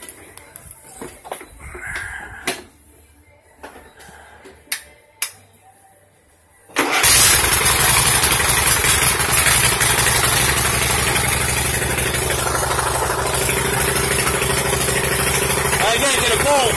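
A rebuilt 21 HP V-twin engine cranks over and fires up at about seven seconds, then settles into a loud, steady idle that runs to the end. Before it starts there are scattered clicks and light handling noises, and no one speaks.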